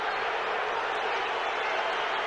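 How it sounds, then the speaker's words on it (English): Large arena crowd at a Tyson versus Holyfield heavyweight boxing match booing after the ear bite, a dense, steady roar of many voices filling the hall with no breaks. "the crowd are booing because they've just seen the slow motion on the big screen"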